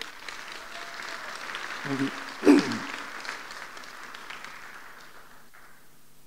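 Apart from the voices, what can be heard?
audience applause at a tech event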